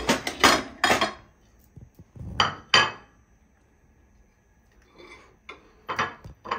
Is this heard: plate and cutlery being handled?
yes